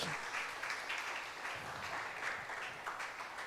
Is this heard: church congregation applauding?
yes